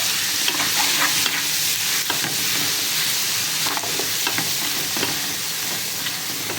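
Onion with garlic-ginger paste fries in desi ghee, a steady loud sizzle running throughout with repeated scraping stirs of a spoon against the pan.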